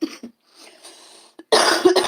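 A few short coughs sound close up, small bursts followed by a harsher, louder cough at the end.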